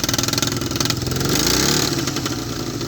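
A small rail motor trolley engine on a narrow-gauge railway runs close by with a rapid pulsing chug, then revs up and settles back to a steady throb.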